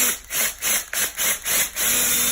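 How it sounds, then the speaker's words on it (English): A 1/2-inch spade bit drills into foam, a rasping, whirring grind in rhythmic bursts of about five pulses, close and fairly loud with no talking. "just drill into the foam."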